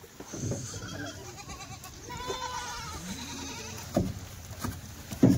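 Kathiawari goats at a livestock sale bleat in several loud, wavering calls, with a cluster in the middle and sharper cries near the end, against low outdoor background noise.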